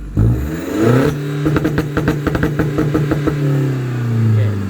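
A car engine with a BIS exhaust and automatic gearbox is revved hard in repeated bursts, giving a rapid staccato crackle over a loud, close drone, with rev-limiter cuts.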